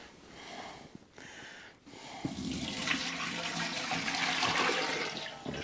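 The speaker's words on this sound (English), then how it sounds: "the water instantly gets sucked right down into the bottom pan" A homemade maple syrup vacuum filter pulls water down into its bottom pan with a brief gurgle, then a sustained rushing, sucking hiss that swells and holds close and loud.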